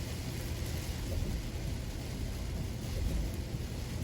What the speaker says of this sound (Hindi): यहाँ का मौसम ये देखें, आपके सामने कितनी तूफ़ानी बारिश है, ज़रा आप भी सुने